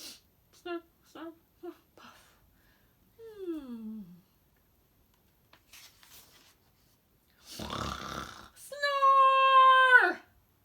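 A voice imitates a pig snoring, with a few short snorts followed by a long drawn-out snore and a final loud, nasal, wavering snore.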